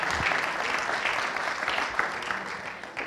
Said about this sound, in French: S'il vous plaît, on peut les applaudir,